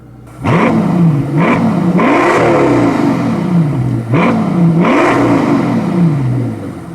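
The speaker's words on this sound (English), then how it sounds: "It's a V12. We're not leaving the stock. Come on, man. Even though it sounds so good." A Mercedes S65 AMG coupe with a stock twin-turbo V12 revs twice in two bursts, each a rising roar that sweeps up and falls back to a rumbling idle, close and loud with no talk.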